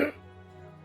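A voice imitates a character coughing up a potion: a short rough cough bursts at the start, then a quiet pause, and another harsh burst comes at the end.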